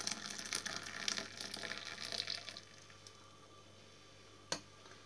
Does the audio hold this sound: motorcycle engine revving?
no